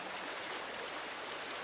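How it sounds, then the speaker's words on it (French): A forest stream flows nearby as a steady, soft broadband rush of water, continuous and even with no talking. "Là, il y a le ruisseau."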